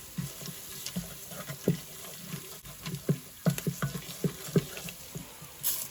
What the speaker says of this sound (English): I don't want my curry leaves to burn, so that's why I'm constantly stirring it.